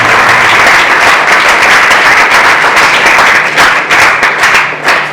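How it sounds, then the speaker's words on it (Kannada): A crowd at a felicitation ceremony for Agniveer recruits breaks into loud, sustained applause: a thick wash of many hands clapping close by, thinning slightly toward the end. "ಒಂದು ಜೋರಾದ ಚಪ್ಪಾಳೆಯೊಂದಿಗೆ"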